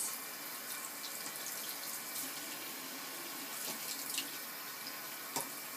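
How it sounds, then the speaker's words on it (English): Tap water runs in a steady, close hiss while soapy makeup brushes are rinsed under it, with small splashes and shifts in the flow as the brushes and hand move through the stream. "Rinse the soap off your hand so you don't put more soap into the brush."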